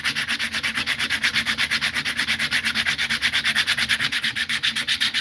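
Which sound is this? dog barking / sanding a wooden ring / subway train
sanding a wooden ring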